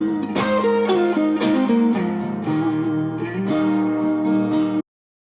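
A sustained, effects-laden electric guitar phrase through a Valeton GP100, with chorused, slightly distorted chords changing every second or so, played alone and stopping abruptly near the end.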